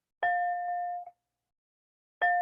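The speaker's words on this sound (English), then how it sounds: "And 3 rings of the bell is signifying the beginning of something beautiful." A small bell rung for sound therapy strikes twice with clear, bright tones, the first ringing for nearly a second before it is damped and the second starting at the end, with quiet pauses and no voices.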